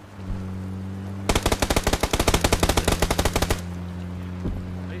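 Automatic weapon fire in the PUBG battle royale game rattles off as one long, loud, rapid burst of shots lasting a couple of seconds, with low ambient hum before and after and a single faint thud afterward.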